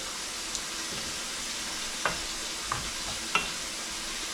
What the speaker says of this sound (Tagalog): haluin natin mga kabuli.